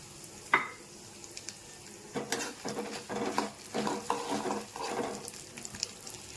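Peanuts and dried red chillies frying in a pan for pulihora, a soft sizzle broken by a sharp tap and then repeated scraping stirs that rustle and crackle, fairly quiet and without talk.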